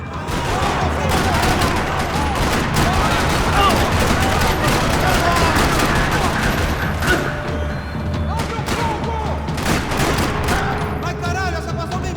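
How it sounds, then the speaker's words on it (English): Dense, continuous gunfire in a parking lot in the video game Max Payne 3, rapid overlapping shots and booms, loud and sustained throughout, with faint voices mixed into the chaos. "Another parking lot rattling with gunfire."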